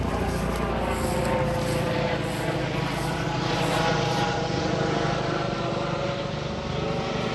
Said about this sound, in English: That's Life Flight.